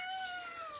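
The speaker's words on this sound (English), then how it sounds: "Oh guys, you've never met this kitty." A cat lets out a single drawn-out meow, close and clear, lasting under a second with a slightly falling pitch and no other sounds.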